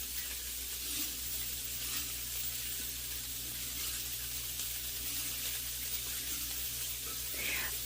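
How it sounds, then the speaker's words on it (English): A pot of broth comes to a boil while an arrowroot powder mixture is poured in, giving a continuous close bubbling hiss with faint clinks and a soft voice underneath. "you can see the broth starting to boil, so I am pouring the arrowroot powder mixture in"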